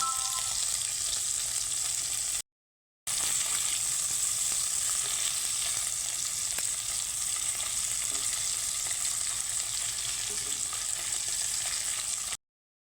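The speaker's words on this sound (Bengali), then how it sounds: "মাছটাকে আমি উল্টে পাল্টে ভেজে দেবো" Tengra fish frying in oil in a pan, a steady bright sizzle close by with soft scraping as the pieces are turned, interrupted by a short gap of silence and ending abruptly.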